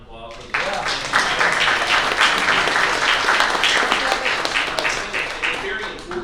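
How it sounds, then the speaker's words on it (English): Audience applause for military veterans at a conservative leaders forum, a full room clapping loudly and steadily after a brief spoken lead-in, sustained for several seconds. "Give them a round of applause."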